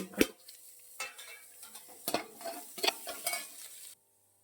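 Capsicum fries in a pan with a faint sizzle under several sharp utensil clinks and scrapes against the pan, irregularly spaced, then the sound cuts to silence near the end.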